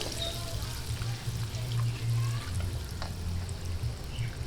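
Butter sizzles and sputters in a pan as sautéing begins, a steady low crackle with small pops and hiss, fairly quiet and continuous with no talk over it.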